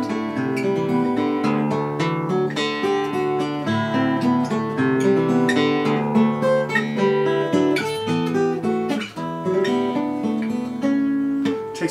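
An acoustic guitar plays a song with full strummed chords and picked melody notes mixed together, steady and fairly loud throughout with no talking.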